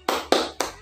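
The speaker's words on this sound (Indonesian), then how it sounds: "Tepuk semangat." Three sharp, evenly spaced handclaps ring out close and loud, a quick rhythmic spirit clap done by children at a Sunday school class.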